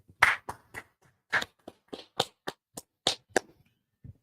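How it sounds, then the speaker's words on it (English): About a dozen sharp hand claps ring out in a quick, slightly uneven rhythm in a class setting, close and distinct against near silence, ending with a soft thump. "All right, let's clap it up."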